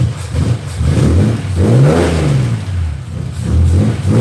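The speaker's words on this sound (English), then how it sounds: "Give it a rev, man." A 1955 Ford Popular engine, restarted after more than ten years, revs up and down in several close, loud surges with a rattly mid-pitched note, rising and falling without talk.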